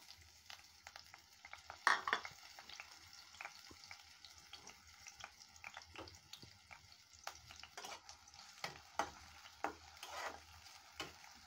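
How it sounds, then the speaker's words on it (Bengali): Onions frying gently in oil in a pan over medium heat give a faint, steady crackling sizzle, broken by scattered stirring scrapes and small ticks. "পেঁয়াজটা আস্তে আস্তে সুন্দর করে ভেজে নেব। মিডিয়াম আঁচে পেঁয়াজটা ভেজে নিতে হবে"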